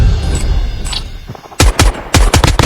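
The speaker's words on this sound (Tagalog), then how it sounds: "Ay, may bumabaril sa taas." Sharp, rapid bursts of automatic gunfire in Call of Duty Mobile, coming from above, loud, close cracks in quick clusters following a quieter rumbling stretch.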